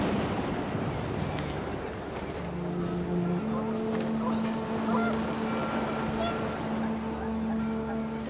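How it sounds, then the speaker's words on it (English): Panicked geese honk in the video game What Remains of Edith Finch, several drawn-out tonal calls over a steady bed of wind noise. "The wind picked up, and panicked geese appeared and quickly went."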